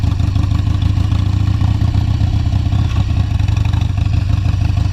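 Harley-Davidson motorcycle engine rumbling steadily during a ride, a loud, continuous low-pitched throb with clattering texture, close and without speech.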